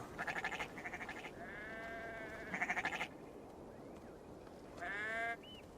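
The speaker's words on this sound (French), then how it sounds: "Qu'est-ce qu'il a mangé, ce mouton?" A sheep in Assassin's Creed Valhalla gives several wavering bleats in short bursts, separated by brief pauses. The calls are fairly quiet against a steady ambient hiss.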